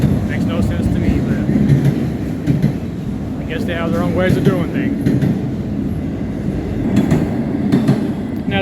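A train rolls past a railroad crossing, a close, steady rumble with faint wheel clatter and brief squeals, while someone talks over it.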